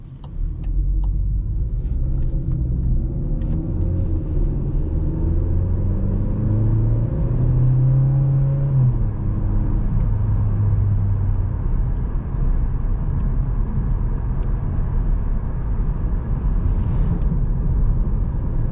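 A 2021 Seat Leon FR with a 1.5-litre eTSI 150 hp mild-hybrid petrol engine and DSG gearbox drives along, a steady low engine and road rumble heard from inside the cabin, rising slightly in pitch early on then holding an even drone.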